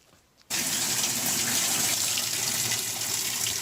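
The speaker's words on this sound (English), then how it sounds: "then we'll fill the washer up and send it in the drain cycle" A GE top-load washer starts filling with water: after a brief quiet moment, a loud, steady rushing gush of water begins abruptly and continues evenly, close by.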